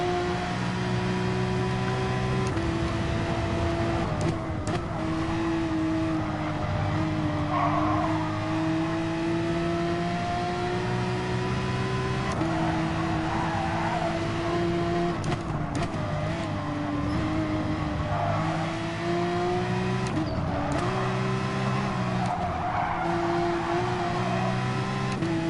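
Porsche 911 race car in Gran Turismo Sport, its engine droning steadily and rising and falling in pitch through gear changes and corners, close and continuous for the whole stretch.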